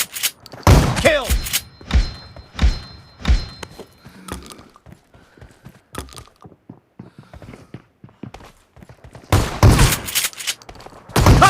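Shotgun blasts from PUBG Mobile, a run of sharp, loud thumping shots spaced a second or so apart at the start, a quieter stretch with scattered clicks and handling noises, then another dense burst of close fire near the end.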